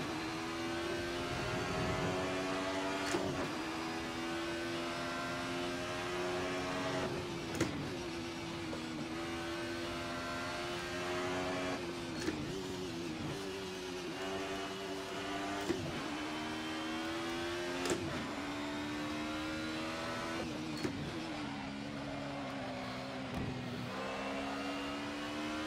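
A Ferrari GT3 race car engine in the Assetto Corsa racing simulator, howling steadily through long revving pulls with sharp gear-change breaks every few seconds, loud and continuous with no voices.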